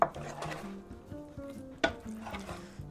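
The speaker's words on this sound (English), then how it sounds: "I'm just gonna mix our pasta into our sauce." Pasta is stirred into vodka sauce in a pan with a soft wet scraping and shuffling, broken by a couple of sharp knocks of utensil against the pan.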